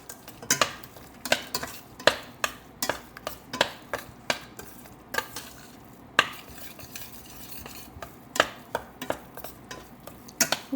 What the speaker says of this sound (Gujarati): જો હવે આને અહીંયા મિક્સ કરતું રહેવાનું.